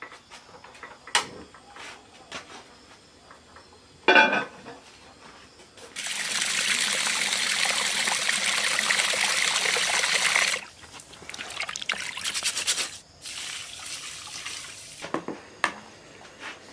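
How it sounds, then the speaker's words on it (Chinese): Water runs and trickles into a cooking pot in two long steady stretches of pouring, broken by short clinks and handling noises, fairly close and with no talking. "准备一锅水，用来烧开。"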